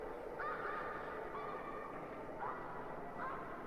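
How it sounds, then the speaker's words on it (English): A flock of geese honks repeatedly at a distance in the video game theHunter Classic, the calls rising over a steady outdoor ambient hiss. "Kinda makes you wonder if the geese are gonna attack you too."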